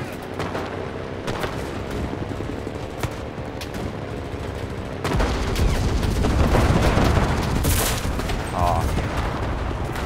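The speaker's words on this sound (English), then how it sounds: "I'm gonna just start off by getting a couple of sniper shots." Sniper rifle shots and scattered battlefield gunfire crack through an Enlisted video game match, with sharp reports over a rumbling background that grows louder partway through and voices faintly heard.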